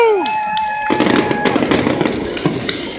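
Independence Day fireworks burst over Uptown Charlotte, a dense run of crackling, popping explosions at middle distance following a falling whistle at the start, the booms overlapping in quick succession.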